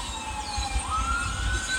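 Emergency vehicle sirens wail faintly in the distance outdoors, their rising and falling tones drifting over a low, steady background rumble, with no one talking.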